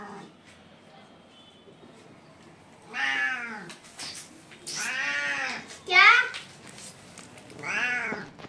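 A cat meows close by several times, drawn-out rising and falling cries separated by brief pauses, with quiet background noise.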